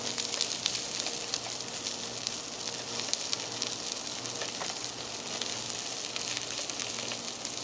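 A heavy piece of seafood, likely lobster, sizzling steadily in a hot pan, a continuous crackling hiss throughout with no talk.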